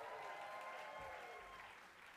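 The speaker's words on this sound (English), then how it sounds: "And that's okay, you can applaud." An audience applauds at a high school musical theater songwriting concert, a steady wash of clapping from a crowd that stays even and then thins slightly toward the end, heard from a distance at low level.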